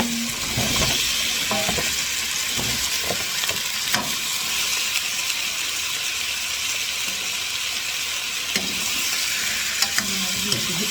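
Pork ribs stirred into a pan of cooked tomatoes, a steady close sizzle with repeated scraping and clattering stirs against the pan over several seconds, with no talking.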